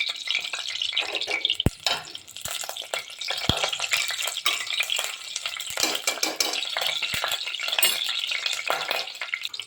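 Whole cardamom pods, cloves and cinnamon sizzle steadily in hot oil for chicken biryani, a dense crackling fry with a few sharp clicks from a spoon stirring against the pan, no voices.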